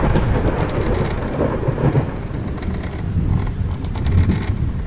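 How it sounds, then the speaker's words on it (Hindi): Heavy rain pouring down in a dense, steady roar, with deep rumbling underneath like distant thunder. "बारिश इतनी तेज थी कि पूरे जंगल में बारिश का पानी बहने लगा।"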